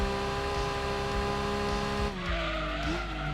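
A race car in Gran Turismo 2 on the PS1 holds a loud, steady engine drone at the rev limiter, with a buzzing harmonic whine that dips briefly as the pitch shifts, continuous and close.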